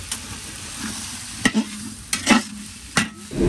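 Tilapia frying in oil, a constant crackling sizzle punctuated by a few sharp pops and spatters, close and without voices.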